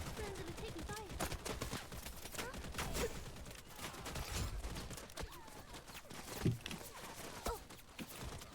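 Gunfire in the shooter game Wild Assault, bursts of rapid shots and scattered single cracks crackling throughout, mixed with in-game voice callouts and other combat noise.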